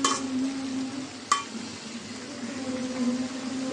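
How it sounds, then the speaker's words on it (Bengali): Vegetables being stirred and fried in a pan, a soft steady sizzle with a sharp utensil clink against the pan at the start and another partway through, close and alone with no talk. "ভালো করে নাড়াচাড়া দিয়ে যে সবজিটা কষানো হয়ে গেছে"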